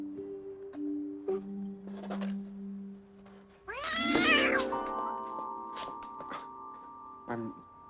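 A cat lets out a loud, drawn-out meow close by, rising and wavering, followed by shorter cries and a final brief meow, with quiet tones and a soft thump around it.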